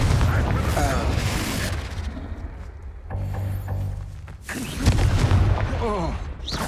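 A Confringo fire spell blasts with a booming explosion in Hogwarts Legacy, a close, heavy burst that rises again near the end among loud battle sounds.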